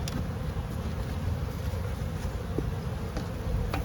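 A steady, low droning hum of many honey bees buzzing inside a hive, continuous and close.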